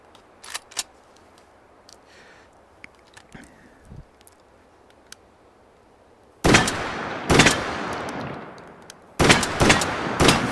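A self-loading rifle with a five-round capacity fired in Battlefield 1: soft mechanical clicks and handling noises, then several loud, close shots with ringing tails.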